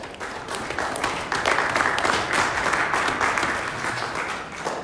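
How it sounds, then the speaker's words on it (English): A church congregation applauds in a broad, continuous wave of clapping that swells slightly in the middle and holds at a strong, steady level, with a few distinct claps standing out. "Let's give yourself applause."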